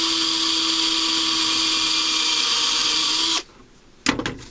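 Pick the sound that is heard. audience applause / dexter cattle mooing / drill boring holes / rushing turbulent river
drill boring holes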